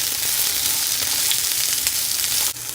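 Onions sautéing in a pan with mustard seeds and curry leaves make a loud, continuous crackling sizzle that is close and constant throughout, with a slight shift near the end.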